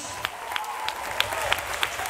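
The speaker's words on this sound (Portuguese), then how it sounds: "Você pode aplaudir Jesus?" A church congregation applauds, sparse, scattered clapping with a few sharper individual claps standing out over a soft room background.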